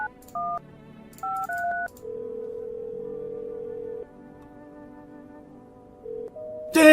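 A telephone keypad dials a short series of beeping touch tones in uneven bursts, followed by a long single tone, loud and clear with nothing else over it.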